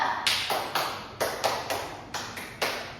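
Sharp hand claps from a classroom clapping game, a quick series of crisp, close claps in rough pairs with short pauses between, no talking.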